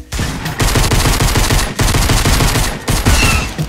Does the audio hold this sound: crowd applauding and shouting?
no